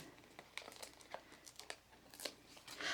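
Foam dimensional adhesive pads are peeled from their backing and pressed onto a handmade stamped card, making quiet, scattered crinkles and short papery tearing rustles at close range.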